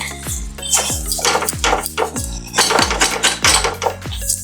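A spoon or spatula stirs spices in hot oil in a pan for chicken curry, making repeated metallic clinks and scrapes in a steady rhythm, close and clear, with no talking.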